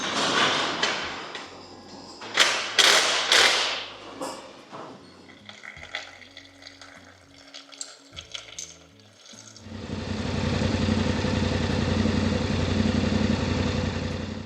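A motorcycle with a coolant leak starts up after a stretch of metallic clinks and handling noises, then settles into a steady, close, fairly loud idle that runs on alone to the end.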